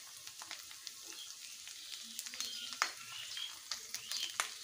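Ginger, garlic and green chili paste frying with browned onions in a pan for an egg curry, crackling sizzle with sharp pops and spatters, faint and close, growing busier.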